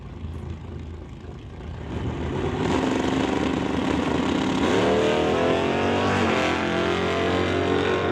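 Two drag race cars, a Pontiac and a Mopar, launch off the line at a drag strip in Mission, BC. A low idle swells into a loud, sustained roar, the engines climbing in pitch as they pull away.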